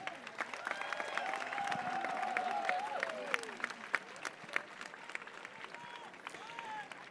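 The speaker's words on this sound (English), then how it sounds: "A big round of applause for all the guests who are there on the dais," Audience applause for the guests seated on the dais at a rural sports festival: a dense, sustained patter of clapping with scattered sharper claps, mixed with voices.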